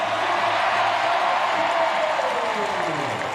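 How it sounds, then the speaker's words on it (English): Crowd applauding and cheering at a Paris para canoe race as a kayaker crosses the finish line, a steady, loud wash of clapping and cheers beneath a commentator's voice. "And the crowd enjoy that, willing her over the line."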